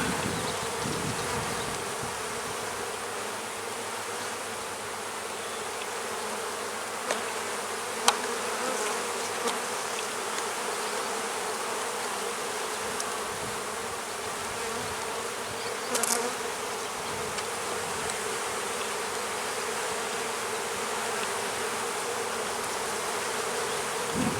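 Honey bees hum in a dense, continuous drone close by while a beehive is opened for inspection, with a few faint clicks and handling knocks of the frames.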